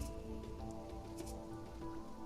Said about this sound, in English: It's not really raining that hard.